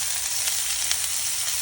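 Four chopped onions dropped into hot oil in a pan, a loud, bright, continuous sizzle with a couple of crackling pops, close up with no voices.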